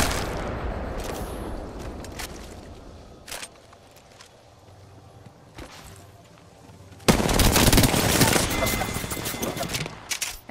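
Gunfire crackles in a battle royale video game match, scattered distant shots early, then a loud close burst of rapid automatic fire in the final seconds, with faint voices underneath.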